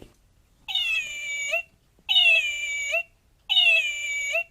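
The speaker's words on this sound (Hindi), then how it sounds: "इसको प्रेस करने पे ये मियाओ मियाओ मियाओ की आवाज़ें निकालती है" A toy cat meows three times in an even rhythm, each bright electronic mew lasting about a second with short silent gaps between, close and clear.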